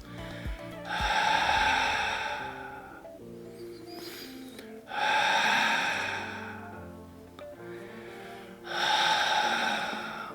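Slow, deep breathing during a pilates leg kick exercise: three long, loud, close breaths with quieter gaps between them and no talking.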